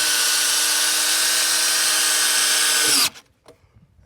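A power drill drives a bolt into a timber handrail, giving a loud, steady three-second whine that cuts off abruptly, followed by faint clicks and handling noise.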